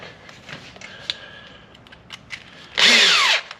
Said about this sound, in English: Very difficult to drill through.